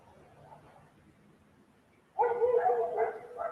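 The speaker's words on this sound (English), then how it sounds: "there's a bunch of dogs barking down below me, or a couple dogs" Several dogs bark out of sight somewhere below, at first a faint murmur and then a louder burst of overlapping barks that continues to the end.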